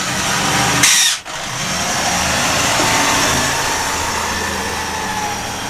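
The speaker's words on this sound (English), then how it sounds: "so we'll get a bigger drill bit and just open those up a bit now" Drill mounted on an old desk opening up holes with a bigger bit, a steady motor whine running throughout with a brief sharp burst and dip early on, no talk.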